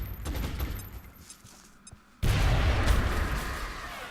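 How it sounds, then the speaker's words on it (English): Bombs explode in the video game XCOM: Long War: after a quieter stretch with faint game sounds, a sudden loud blast erupts and a heavy rumbling roar carries on to the end. "Bombs away."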